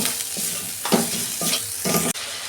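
Turmeric, cumin, coriander and chili powder stir-fried in oil for a fish curry, with a spoon scraping the pan in repeated rhythmic strokes over a continuous close sizzle, and no talking.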